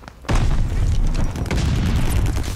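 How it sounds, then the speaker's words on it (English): A grenade explosion in Call of Duty: Vanguard, a sudden loud deep boom followed by sustained rumbling blast noise and crackling debris that fills the rest of the moment, with no voices over it. "Cook a regular grenade, let it go."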